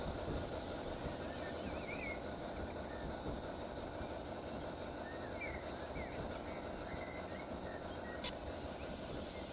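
A freight train in the EEP railway simulator rolls into a station platform with a steady, continuous rumble and hiss, joined by faint squeals and clatter, with no talking.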